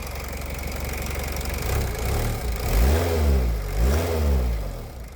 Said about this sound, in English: It doesn't actually sound like a diesel when you're driving it, but it certainly does when you're idling.